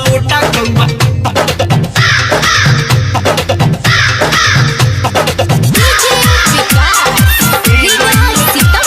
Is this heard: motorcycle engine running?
no